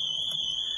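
A Cobra alarm on a van sounds a steady, piercing electronic tone, continuous and loud for the whole moment with no voices over it.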